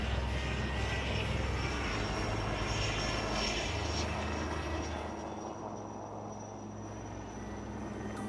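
Aircraft noise fills the air at the Aero India 2021 flying display, as Sarang helicopters and Surya Kiran jets fly: a steady, loud engine roar with a low rotor throb that drops in pitch partway through.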